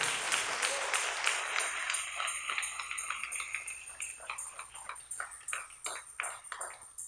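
Church congregation claps during a Spanish-language service, a fading wash of applause giving way to scattered, uneven individual claps in a reverberant room.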